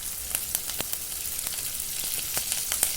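Curry leaves sautéing in hot oil for a lentil-ball kuzhambu, a steady soft sizzle with scattered sharp crackles and pops, faint and close, no talk.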